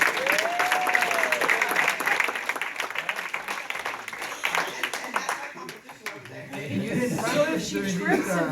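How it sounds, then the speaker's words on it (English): Round of applause at a school district board meeting, clapping from the room that thins out midway as voices and talking take over, with speech continuing near the end. "Can we have a round of applause for her?"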